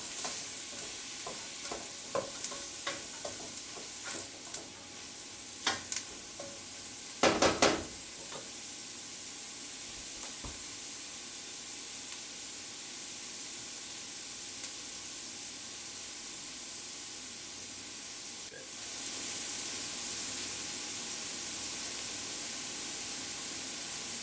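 Flour is stirred into melted butter in a pot to make a roux for cream of broccoli soup: soft spoon clacks and scrapes early on, then a faint steady hiss, all quiet and close.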